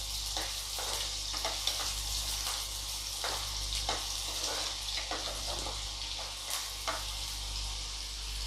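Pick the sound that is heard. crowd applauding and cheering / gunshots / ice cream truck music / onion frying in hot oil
onion frying in hot oil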